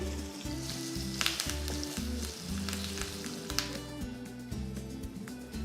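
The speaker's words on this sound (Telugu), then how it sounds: "అర టీ స్పూన్ ఆవాలు నాలుగైదు ఎండుమిరపకాయలు అర టీ స్పూన్ అంత ఇంగువ వేసి వేయించాలి" Mustard seeds, dried red chillies and asafoetida sizzle steadily in hot oil for a tempering, a close, continuous frying hiss with faint crackles and pops throughout, no voices.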